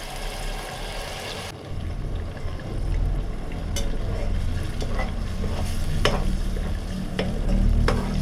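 A ground paste of onion, garlic and ginger drops into hot oil in a pan for a North Karnataka egg and chicken curry, a sudden sizzle and steady frying hiss with occasional stirring scrapes, no talk.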